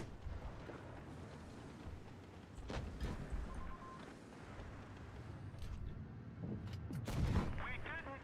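Tank cannon fire in World of Tanks Blitz tournament play, heavy booming shots and explosions mixed into dense game noise, with a louder burst near the end.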